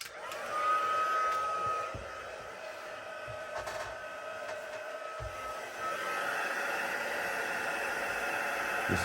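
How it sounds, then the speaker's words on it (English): Heat embossing tool blowing hot air over clear embossing powder on white paper, a steady hissing whoosh with a faint whine, fairly quiet and continuous, with small knocks as it is moved about. "I'm going to heat emboss that. Apologies for the noise."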